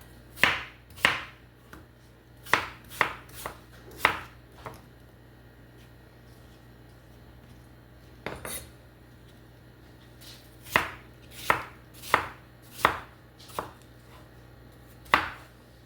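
Knife chopping apples on a cutting board for apple pie filling, distinct sharp chops in short clusters separated by pauses, close and clear.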